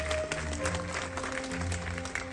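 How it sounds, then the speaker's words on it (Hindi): A crowd at a Faridabad police event on women's safety claps steadily and fairly loudly, a continuous patter of hands mixed with a faint sustained musical tone in the background. "जोरदार तालियां उनके लिए आप बजाएं"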